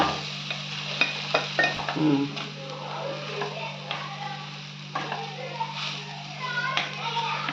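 A spoon scrapes and stirs cooked sevai rice noodles into a fried tomato mixture in a pan. The stirring makes soft, irregular clinks and scrapes over a light sizzle, and faint voices can be heard in the background.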